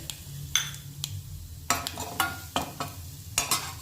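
Asafoetida tempering in hot oil in a pan: a low, faint sizzle broken by several sharp spoon clinks and taps at uneven intervals.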